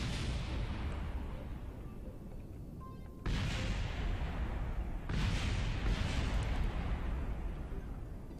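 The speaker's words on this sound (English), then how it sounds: "That's what you want to hear when you're trying to land on the moon, right? Explosions everywhere." Explosions during a moon landing in Kerbal Space Program: a continuous heavy rumbling roar broken by two sharp, louder blasts that each restart the din, with no clear talk.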